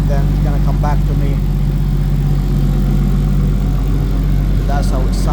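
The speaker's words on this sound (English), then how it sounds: "That's how it sounds. Nice, smooth." A Nissan Skyline R34 converted from GT-T to GT-R spec idles close by, a steady, smooth low engine drone with a few brief higher bursts of noise over it.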